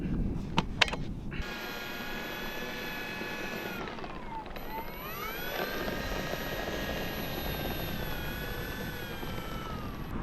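An electric motor on an Air Tractor 1.5 m RC airplane runs up for its maiden flight, a steady whine that rises and dips in pitch as the throttle changes, preceded by a few sharp clicks.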